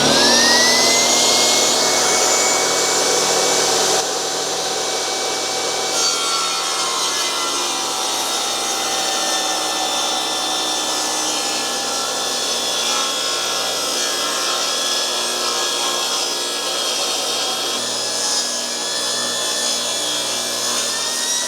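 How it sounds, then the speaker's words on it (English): A PowerSmart 2200-watt inverter generator surges and then holds a steady, loud, continuous drone while a table saw rips a 2x4, with the saw's sustained whine layered on top and a brief drop in level early on. "when I kicked this saw on, you heard that generator really ramp up"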